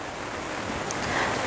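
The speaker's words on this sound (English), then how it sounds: "Rainy and windy." Steady blustery wind and rushing surf-like noise fill the scene, a constant broadband roar with no voices, as on an exposed rainy coastline.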